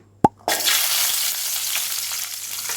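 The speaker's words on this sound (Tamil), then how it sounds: "நல்லா கோல்டன் கலர் வர்ற வரைக்கும் வறுத்துக்கோங்க" Ingredients for Indian gooseberry chutney are dropped into a hot pan and fried until golden. A sharp clink comes first, then a sudden loud sizzle that stays steady and slowly eases.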